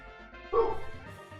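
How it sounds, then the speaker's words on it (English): A single short dog bark, with a yip-like whimpering tail, rings out in a Pokémon Black game session, fairly faint and over a quiet background. "there goes the dog barking"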